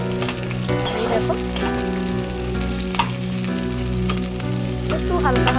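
Green chillies fry lightly in a pan for chilli paneer with a continuous close sizzle and crackle. A low hum runs underneath, and a few louder pops and stirring scrapes break through.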